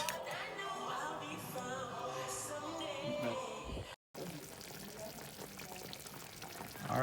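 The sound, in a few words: pouring water into a pot of stewing chicken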